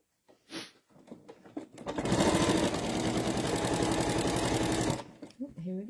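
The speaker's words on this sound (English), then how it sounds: "So I'm going to sew to the end" A sewing machine runs steadily for about three seconds while sewing quilt binding, a close, even mechanical whir that starts and then stops, with someone speaking before and after.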